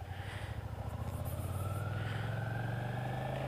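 A Suzuki SFV650 Gladius motorcycle being ridden, its V-twin engine holding a steady drone that gradually rises in pitch as it accelerates, with continuous wind and road noise.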